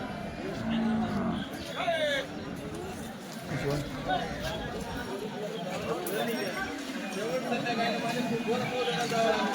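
Khillar bulls at a busy farmers' cattle market in Chalisgaon, lowing and mooing among a crowd, with people talking close by throughout.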